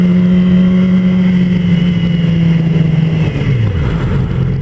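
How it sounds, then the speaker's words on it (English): A Yamaha R6 sport motorcycle fitted with an Arrow aftermarket exhaust holds a loud, close, steady rev before the pitch drops as it settles back down. "So my brother's Arrow exhaust sounds pretty damn cool."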